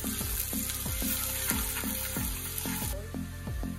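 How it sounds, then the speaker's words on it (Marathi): Sliced onion fries in hot oil with a soft, steady sizzle, punctuated by repeated rhythmic scraping strokes as it is stirred, fairly quiet overall. "कांदा थोडासा परतायचा आहे जोपर्यंत त्याचा थोडासा गोल्डन कलर चेंज नाही होत।"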